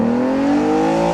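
Aston Martin DB9 V12 engine in sport mode, its exhaust note rising steadily as it revs through a short continuous pull, loud and close with no talk.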